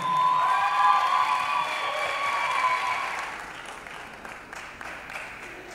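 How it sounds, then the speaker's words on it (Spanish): An audience at the Anton Awards ceremony in Ecuador 2019 applauds an award recipient, full clapping with some cheering that swells early and then gradually fades. "Recibamos con un fuerte aplauso, por favor, a Jimmy John Vélez"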